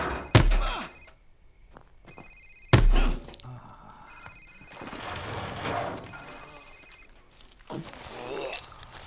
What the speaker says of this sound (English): it's his cell phone